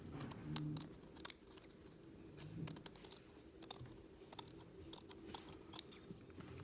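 Scissors trimming fabric during a sewing session, with repeated close, crisp snips in an uneven rhythm over quiet room background.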